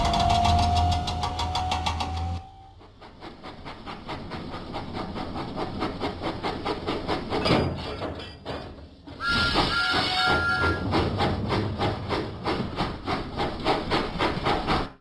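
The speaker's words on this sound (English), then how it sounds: "Thomas pumped his pistons and puffed out of the docks." Steam locomotive puffing in a Thomas & Friends video game as the engine pulls out of the docks, a steady rhythmic chuffing carried over a busy game soundtrack of music and effects.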